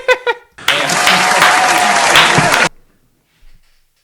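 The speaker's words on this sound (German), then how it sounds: "Bitte jetzt nicht mehr klatschen." Applause from a crowd, a dense burst of clapping that starts abruptly, holds steady for about two seconds and then cuts off, preceded by brief speech.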